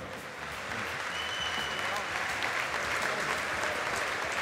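Audience at a fight challenge event in a ring breaks into sustained, dense applause, loud and steady from start to finish, with crowd voices mixed in.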